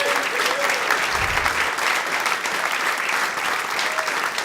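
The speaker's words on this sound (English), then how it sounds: "Give me a huge round of applause." A comedy club audience gives a big round of applause, a loud, continuous wall of clapping from a full room that holds steady throughout with no speech on top.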